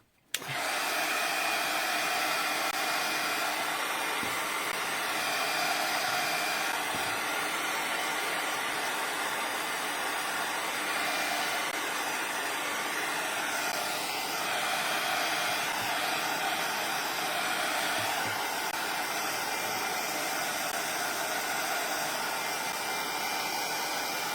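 A hair dryer or heat tool blows steadily on gesso, a constant close whooshing hum that starts abruptly and runs unbroken throughout, with no talk.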